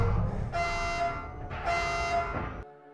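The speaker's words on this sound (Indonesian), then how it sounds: "terbangun karena suara alarm itu" A loud electronic alarm blares in two long sustained tones with a short gap between, then cuts off abruptly.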